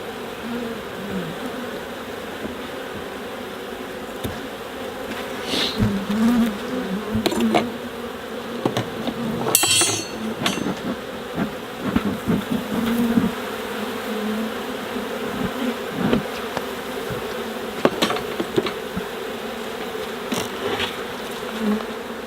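Honeybees buzz steadily around an opened hive infested with small hive beetles, a dense, continuous hum with individual bees droning close by, plus occasional handling knocks and clicks.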